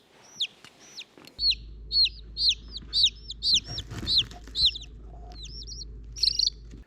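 Many small speckled Sussex chicks peep close by, shrill rising cheeps repeating in a quick, steady rhythm over a low mechanical hum.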